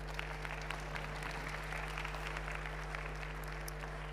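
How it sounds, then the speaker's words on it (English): Conference audience at a sustainability and fashion event applauds as a speaker is welcomed onto the stage, with a steady, fairly faint patter of clapping heard from a distance throughout. "A round of applause to Helene Valade."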